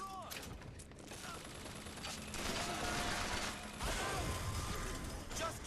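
Rapid gunfire from a shootout in Bioshock Infinite, dense and continuous with mechanical clatter and impacts, loud and close throughout.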